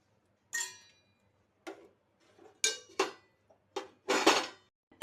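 Dry fenugreek curry stirred in a pan, heard as separate sharp scraping clinks of a spoon against metal at irregular intervals, close and fairly quiet, with silence between strokes.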